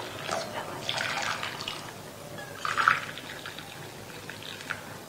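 Water poured into a pot of dried apricots for soaking, a soft splashing trickle in a few bursts, close by and fairly quiet, with no talk over it.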